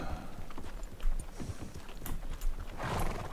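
A horse in the video game Red Dead Redemption 2 trots with steady clip-clopping hooves, and a whinny rises near the end against a busy in-game background.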